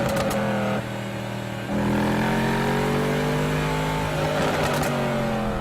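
A Mercedes SLS AMG engine roars as the car accelerates away from Mulholland in Los Angeles, loud and close, rising through the gears with a brief dip between them.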